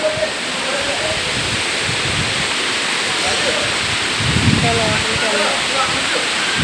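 Falling water rushes continuously at a waterfall, loud and unbroken, like heavy rain. Low rumbles and faint voices rise and fall beneath it.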